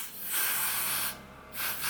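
Got2b glue spray misted onto wig lace in two close hissing bursts, a long spray then a short pause and a second spray.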